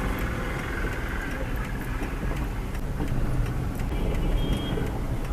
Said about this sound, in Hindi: सामने से भी ट्रैफिक आ रहा है, इधर से जा भी रहा है